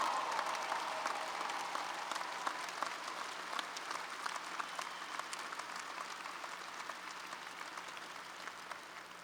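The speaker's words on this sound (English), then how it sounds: "Let's give Hillary a resounding round of applause." Sustained applause from a commencement audience at the University of Massachusetts Boston, a dense wash of many hands clapping steadily at moderate distance for the whole stretch, fading slightly toward the end.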